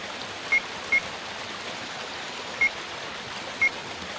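Water runs steadily down a far wall in the Resident Evil Director's Cut game on PlayStation 1, a constant rushing wash broken by four short, faint electronic beeps.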